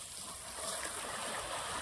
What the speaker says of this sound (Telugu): వరద ప్రవాహానికి బాగా అటు సుడిలుగా తిరుగుతుంది